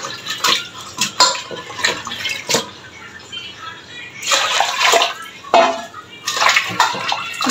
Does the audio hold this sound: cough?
no